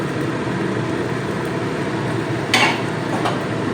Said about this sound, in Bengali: এবার দিয়ে দেব ভেজে রাখা সবজি আর আলু